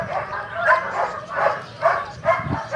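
A small dog gives a run of short, evenly spaced yips and barks close by, about five or six of them across a few seconds, at moderate loudness with no talking over them.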